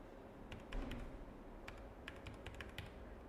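Computer keyboard typing while entering code, a quiet run of scattered light key taps at varied intervals with a soft room hum beneath and no speech.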